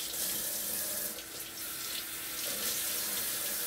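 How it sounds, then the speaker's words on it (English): Tap water runs steadily into a sink as hands are rinsed in a kitchen, a close, continuous splashing flow with slight shifts as the hands move under the stream. "We're gonna rinse our hands off again."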